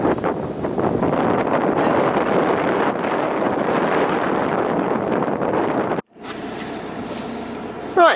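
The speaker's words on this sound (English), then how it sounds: "there's a strong wind, it's pretty cold by recent standards" Strong, cold wind buffets the microphone in a steady loud roar for about six seconds, cuts out abruptly, then returns as a lighter gusty rush.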